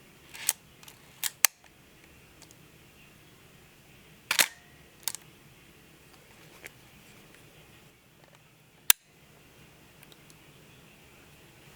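A Leica R4 film camera's shutter fires several times, producing crisp, close mechanical snaps spaced irregularly over a faint room hush.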